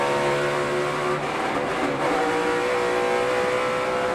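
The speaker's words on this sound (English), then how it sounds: "You heard John Hunter Nemechek actually hit the rev limiter." A NASCAR race car engine held at the rev limiter, a loud, steady, buzzing drone with a stuttering dip partway through, thick with track noise.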